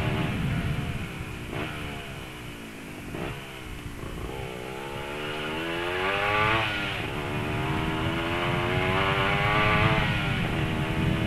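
A small Dinamik motorcycle engine hums steadily while riding, its pitch rising and falling with shifts, over constant road and wind rumble.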